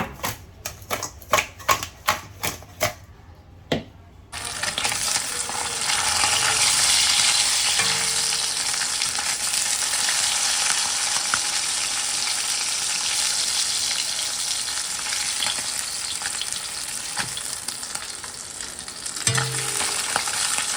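Fish fillets rubbed with salt and turmeric sizzle and crackle steadily in a hot pan, a loud continuous frying hiss that holds for most of the stretch, preceded by a few sharp taps and clatters.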